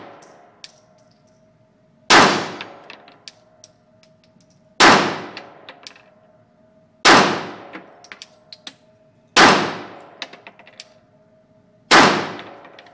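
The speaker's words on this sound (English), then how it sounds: "So, alright, 6 slow fire shots." Five loud, sharp pistol shots from a Glock 42 at an indoor gun range, fired slowly about two to three seconds apart, each crack ringing and decaying before the next, with no talking.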